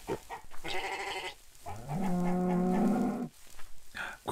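A sheep in the Minecraft-like game MineClone2 bleats twice, first a short wavering call and then a longer, louder drawn-out bleat, close and clear with no talk over it.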